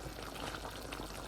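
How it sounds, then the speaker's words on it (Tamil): Fried drumsticks go into a thick, simmering coconut curry, with a soft, continuous bubbling and splashing wash that stays faint and steady and is heard alone. "பொரித்து வச்ச முருக்கங்காய் இருக்குது, அதை போடுங்க"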